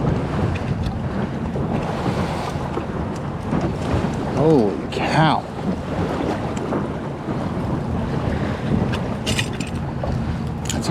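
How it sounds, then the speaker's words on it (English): A stiff south wind buffets a fishing boat on rough Lake Erie water, roaring steadily against the microphone with sloshing waves and creaking mechanisms, and a man briefly exclaims partway through. "That's a pretty stiff south wind, I will say that."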